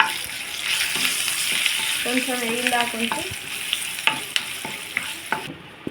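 Spices sizzle and crackle in hot oil while a tempering is cooked for cucumber chutney, a steady close frying hiss with scattered pops and stirring clicks, while a voice speaks a few words briefly.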